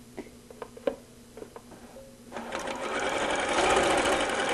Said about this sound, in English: so now I want to go ahead and stitch these layers together